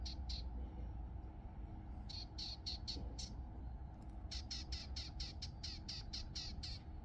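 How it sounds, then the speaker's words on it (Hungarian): Repeated bird calls outdoors, short bright chirping bursts in two clusters, the second a rapid run of about ten calls, over steady low background rumble with no talking. "Na itt is van valami másik madár."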